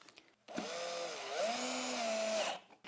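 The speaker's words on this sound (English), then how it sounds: "we're all ready to pre-drill the holes" A power drill pre-drills holes in cedar boards for a winter birdhouse, its motor spinning up and whining steadily for about two seconds, close and loud, before winding down.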